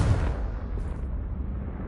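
A Confringo blasting spell bursts in the game Hogwarts Legacy, one heavy, close boom at the start that rumbles off into a low, fading roar.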